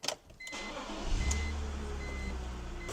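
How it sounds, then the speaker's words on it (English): A BMW engine starts and settles into a steady low idle while the power steering pump circulates fluid, with a brief clatter at the start, then a constant close, quiet hum with no talking. "we're going to turn on the car and we're going to run it and get that power steering pump moving"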